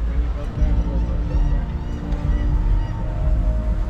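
A flock of flamingos honking repeatedly, forming a dense, low cacophony of goose-like calls with a voice talking over it.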